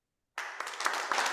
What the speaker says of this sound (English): Let us welcome him with a round of applause as well.